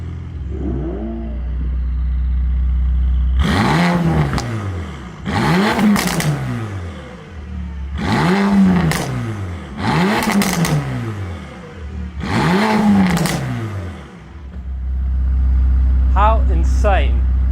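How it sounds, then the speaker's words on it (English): Mercedes-AMG GT Black Series in Sport Plus mode, its exhaust revved hard five times in a row, each loud rising bark falling back to a rumbling idle, close to the car. "A massive change to the exhaust note."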